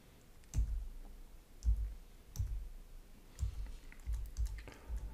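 Keystrokes on a computer keyboard while adjusting lighting in a 3D scene, heard as about six separate soft taps spaced unevenly, close and quiet, with no voices.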